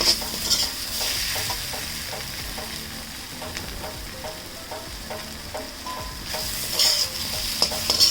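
Chicken for spicy macaroni frying in a pan gives a loud, steady close sizzle with rhythmic stirring scrapes throughout and no talking.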